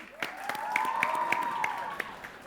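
Scattered, fairly soft clapping from a studio audience greets Team B on a TVRI Sumsel 'Cepat Tepat' quiz show, with a steady tone running beneath the claps.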